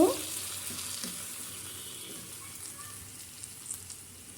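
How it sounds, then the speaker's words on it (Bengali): Tomatoes fry with panch phoron in a hot pan, producing a moderate, even sizzle with light stirring and scraping throughout, starting with a slightly louder burst. "টমেটোগুলো এখন দিয়ে দেবো এরপর একটু নাড়াচাড়া করে নেব"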